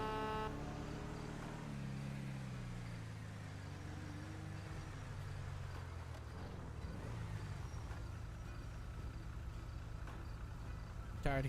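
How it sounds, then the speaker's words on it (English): Truck air horn honking in a video game, blaring as a long sustained blast over constant traffic and engine noise, with speech faintly mixed in. "Tired of hearing your air horn"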